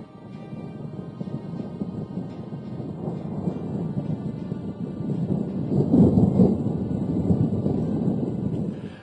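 Thunder rolls as a deep, continuous rumble that swells louder past the midpoint and then slowly fades, with no other sounds over it.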